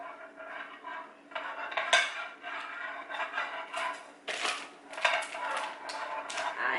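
Chicken enchilada filling scooped and laid into a baking pan, clattering scoop-and-pan knocks and scraping in several bursts, fairly close and moderately loud.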